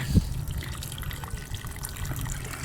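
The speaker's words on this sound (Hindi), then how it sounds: "ये लो जी, ये हमारी वाटरिंग हो गई है।" Water pours over cabbage plants in a garden bed, a steady soft splashing and trickling with a brief thud at the start, close and continuous with no speech.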